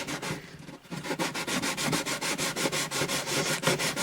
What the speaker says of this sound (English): It's a little rough, but smooth it out in a few minutes with a finer grit